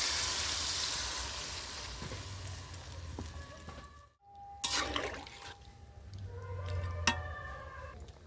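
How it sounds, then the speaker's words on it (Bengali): Water poured into a rohu fish curry with cauliflower, a close gurgling splash that starts, pauses briefly, then resumes with bubbling and clinks of a utensil against the pot. "আমি এবারে জলটা ঢেলে দিচ্ছি"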